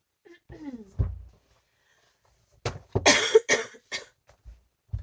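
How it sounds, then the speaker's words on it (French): A woman coughs in a few sharp bursts, close and fairly quiet, with brief talking before them in an indoor setting. "Je suis désolée si je tousse, ça fait 3 semaines que je tousse"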